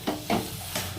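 Spices sautéing in a pan, a soft continuous sizzle broken by three or four short scraping stirs of the spatula, close and fairly quiet.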